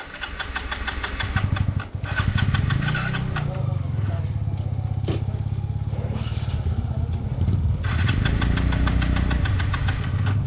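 A motorcycle engine runs loudly and steadily up close, with a rapid throbbing rhythm that briefly dips and then revs back up.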